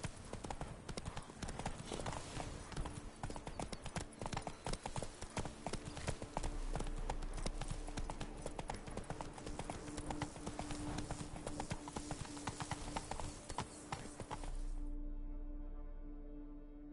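Horse hooves clip-clop steadily and close up while riding in The Witcher video game, a continuous rhythmic trot over a layered game soundtrack, fading out near the end.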